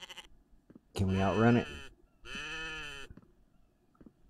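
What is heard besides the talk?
goat bleating in a winter survival video game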